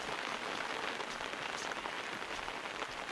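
Steady rain falling on a quiet mountain village of stilt houses in Nghe An, a soft even hiss with scattered drop patter and no voices.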